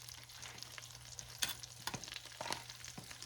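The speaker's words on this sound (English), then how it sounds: "I'm gonna put these in here and let them cook with the butter" Shrimp fry in butter and olive oil for garlic butter shrimp, a steady close sizzle with occasional sharper pops and stirring clinks, and no talking.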